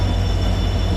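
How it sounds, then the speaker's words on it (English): Locomotives at Sawai Madhopur railway station give off a loud, steady low rumble with a constant droning hum, heard close and without pause for a brief moment. "the rhythmic hum of locomotives and the sharp blast of their horns"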